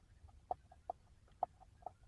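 A bird calls in the New Jersey Pine Barrens at night, four short clucking notes spaced unevenly over two seconds, moderately close and distinct against a quiet background.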